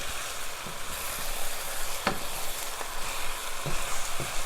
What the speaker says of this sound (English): Just trying to stir everything so it can mix nice.